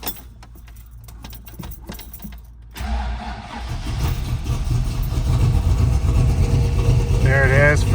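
A 1967 Chevy II Nova with a 350 V8 crate motor starts on the first try after a few key clicks and a rustle in the cabin, then settles into a loud, steady idle close by, with a brief voice near the end.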